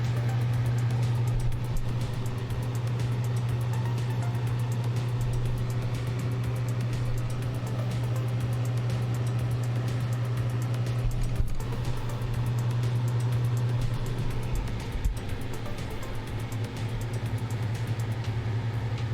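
Steady low mechanical hum of a fan motor running continuously, fairly quiet with a constant drone and faint airy noise.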